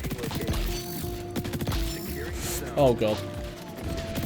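Enemy gunfire in the XDefiant video game, a rapid series of sharp mechanical shots and clicks near the start, mixed with other game sounds and a brief exclamation from a player.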